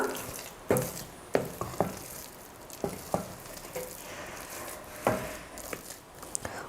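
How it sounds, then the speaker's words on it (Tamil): A ladle scrapes and knocks against a pot of rice and lentils for sweet pongal in irregular strokes while food sizzles softly underneath; no voices. "இப்போவே கொஞ்சம் லைட்டாக கரண்டி வச்சு கலந்து கொடுத்துக்கலாம்"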